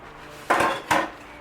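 Fresh spinach, a few cups, dropped into a hot pan with two sharp clattering impacts and a brief rustle between, close and fairly loud, no talking.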